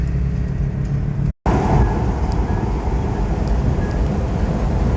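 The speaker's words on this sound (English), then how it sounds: "now we're being overtaken by a vintage vehicle" A vintage vehicle drives past and overtakes on a hill road, a steady loud rumble of engine and road noise close by, with a brief cut-out in the middle and no talking.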